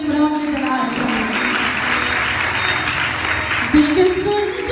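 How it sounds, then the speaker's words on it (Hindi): A congregation at a live Christian worship service in Lahore applauds steadily throughout, a dense wash of clapping with a voice and musical tones running over it and a brief swell near the end. "जोर से ताली बजाएंगे, खुदा में जला रहे हैं।"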